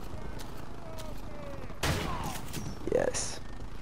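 Two sharp shotgun blasts in close combat in Call of Duty Modern Warfare Remastered, set apart by about a second, over a steady background rumble.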